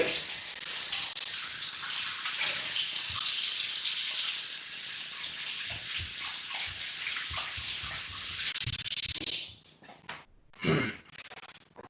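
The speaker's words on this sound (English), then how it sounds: "I'm gonna wash my hands." Tap water runs steadily and close while hands are washed, a broad hiss that cuts off near the end, followed by a few brief knocks and splashes.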